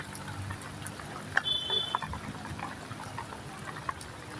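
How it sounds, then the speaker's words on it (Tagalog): Floodwater rushing across a road where two motorcycles and a car have stalled, a steady close wash of flowing water with faint splashes and no talk over it. "Ayan po ang tubig dito."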